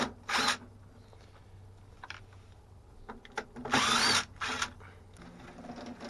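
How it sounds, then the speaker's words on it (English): Two screws are backed out of an air conditioner's control panel with a powered driver, giving short whirring bursts in a few separate spurts among small handling clicks, close but fairly quiet. "We're going to take those 2 screws off."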